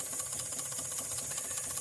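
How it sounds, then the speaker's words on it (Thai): An RO water purifier's small pump hums steadily with a fast mechanical ticking pulse and a bright hiss of flowing water on top. "นี่คือเสียงปั๊มน้ำทำงานนะครับผม"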